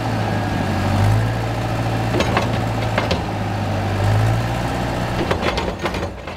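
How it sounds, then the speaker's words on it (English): A 1990 Fendt Favorit 614 LSA tractor runs with its centrally mounted 102-horsepower, 4-litre turbocharged Perkins Phaser engine, giving a loud, steady low drone with an idling character and occasional light clatter. "It has a 102 horsepower, 4-litre turbocharged Perkins phaser engine, which is mounted centrally and has a unique sound."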